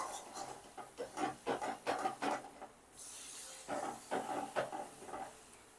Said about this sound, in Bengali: এবার আমি এতে জল দিয়ে দেবো